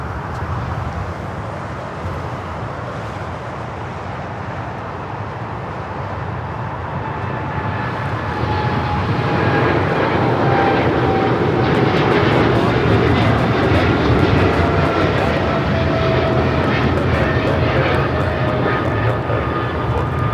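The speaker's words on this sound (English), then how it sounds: "That is Coletta Air Flight 214, 777 freighter." A Boeing 777 freighter at LAX sends out a loud, sustained jet engine roar that builds and stays steady. A faint voice can be heard briefly.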